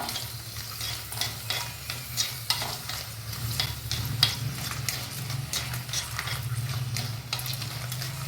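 Oil sizzles steadily in a pan while a spoon scrapes and stirs roasting ingredients until dark, in repeated strokes, close by and moderately loud.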